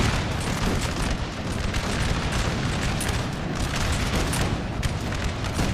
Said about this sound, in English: Point blank those cannons.